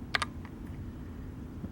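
A few quick clicks come from the keys of a Redragon K589 Shrapnel low-profile mechanical gaming keyboard, a tight double tap followed by a softer single press, then quiet room tone.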